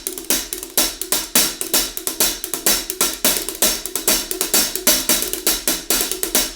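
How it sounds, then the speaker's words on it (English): Hi-hat cymbals in a cajon drum kit ticking in a quick, even pattern of bright metallic chicks, close and alone with no voices throughout. "And our hi-hat cymbals sound like this."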